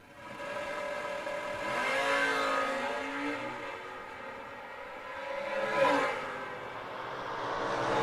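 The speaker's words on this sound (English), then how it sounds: "Larry Buckingham in the Corvette in the Lawrence Motorsports lane. Earl Rowe, Chevrolet Camaro" Drag race cars, a Chevrolet Corvette and a Chevrolet Camaro, launch down the strip with a loud, sustained engine roar that rises and pitches up as they accelerate away, with no talk over it.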